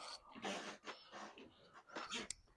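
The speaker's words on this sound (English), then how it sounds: "If y'all hear some heavy breathing, never mind all that." Heavy breathing close up, several rough, wheezy breaths and snorts in uneven bursts, fairly quiet overall.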